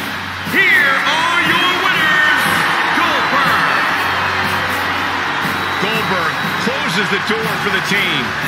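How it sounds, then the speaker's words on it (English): Arena crowd in the WWE 2K20 wrestling game cheers and roars steadily throughout a tag team match, with a commentator's voice talking over the broad, continuous crowd noise. "The crowd here tonight certainly seemed to appreciate the efforts."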